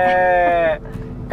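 A human voice imitates a goat's bleat with a single drawn-out, quavering 'beee' sound, loud and close, then breaks off into a short pause and another brief vocal sound.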